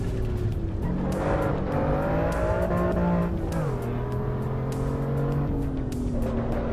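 Simulated racing-car engine from the Assetto Corsa Evo sim game holds a steady, loud drone, its pitch stepping up and down through gear changes and revs, continuous with no talk.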